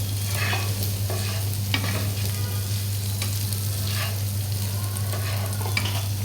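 Spiced mashed potato filling for stuffed aloo chop sizzles steadily in oil while a spatula stirs and scrapes the pan in repeated strokes, close and continuous.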